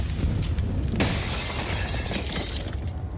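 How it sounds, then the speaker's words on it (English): A grenade blast in a Counter-Strike match goes off with a sharp, loud burst at about one second, then a broad crackling roar that lingers under a steady game-noise bed. "That nade just does a bit of damage onto Config."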